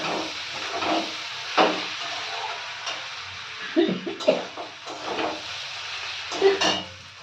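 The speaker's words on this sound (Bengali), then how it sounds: "লঙ্কা, জিরে বেটে রেখেছিলাম সেই মশলাটা দিয়ে দেবো। ভালো করে নাড়িয়ে নেব।" A ground paste of coriander, chilli and cumin being stirred into potatoes in a hot pan, giving scattered scraping and knocking strokes over a soft sizzle, spaced irregularly and close by.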